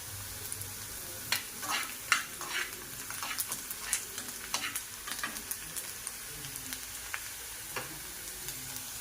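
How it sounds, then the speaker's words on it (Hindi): Chopped onions sizzle in hot oil in a home kitchen pan while a spoon stirs them, giving soft continuous frying with scattered scraping clicks. "तो अभी प्याज फ्राई हो चुकी है"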